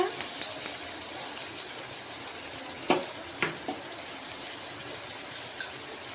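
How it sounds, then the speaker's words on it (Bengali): Ginger and onion paste sautés in a pan with a steady, soft sizzle, broken by a few sharp stirring scrapes and clatters near the middle and one brief later knock. "এবার এটা আমি একটু ভালোভাবে কষিয়ে নেব"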